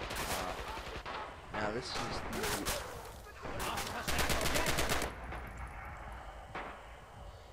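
A German MP40 submachine gun rattles in rapid automatic bursts inside the World War II game Red Orchestra 2, with other gunfire around it and someone talking over the shooting.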